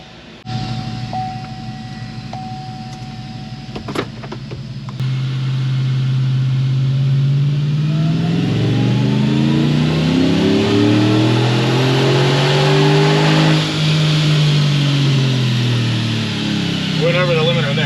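A Callaway 560hp Chevrolet Tahoe V8 revs hard on a dyno, climbing steadily through the gears in one long loud pull up to the rev limiter, after a brief idle, with people talking nearby.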